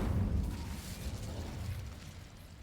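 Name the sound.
Incendio fire spell cast, from video game Hogwarts Legacy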